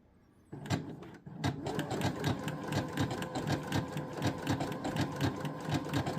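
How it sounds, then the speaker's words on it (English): A serger sewing machine stitching along the edge of a shirt, starting up after a quiet moment and then running in a fast, steady mechanical chatter, close and fairly loud, with no talking. "it kind of stitches up this edge and captures all the loose threads"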